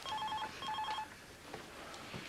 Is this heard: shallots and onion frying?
no